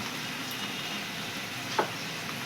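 Spice paste with soybean and potato chunks sizzles steadily in a pan, a continuous close hiss with one brief clink near the end.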